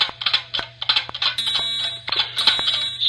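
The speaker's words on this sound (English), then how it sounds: "School fire alarms." A school fire alarm rings loudly and continuously, its piercing electronic tone pulsing in rapid repeated bursts with a steady high whine underneath, close and filling the space.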